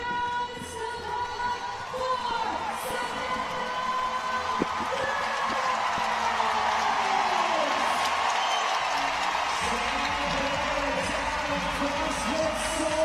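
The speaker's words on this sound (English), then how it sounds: "all these fans cheering so loud for you" A large stadium crowd at the CrossFit Games roars and cheers continuously, with whoops and shouts rising over a dense wall of noise, steady and loud throughout.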